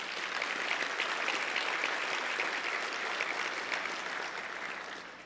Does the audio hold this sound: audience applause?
yes